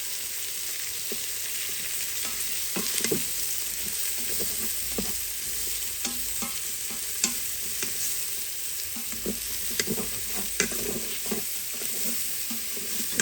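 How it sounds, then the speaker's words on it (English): Mushrooms sauté in a pan with a soft, steady sizzle and scattered light pops and spoon taps, fairly quiet and continuous, with no speech. "Saute these for a minute or two."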